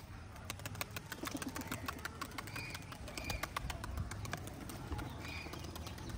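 Pigeons scramble and flap inside a loft, trying to get out, with sharp repeated wing claps and scuffles over a low background hum, faint and somewhat distant.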